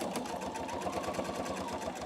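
A PFAFF Expression 720 sewing machine runs a seam along the bottom of a fabric pouch, a steady rapid needle chatter with a low motor hum, close and continuous.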